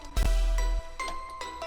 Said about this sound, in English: steel drum kind of sound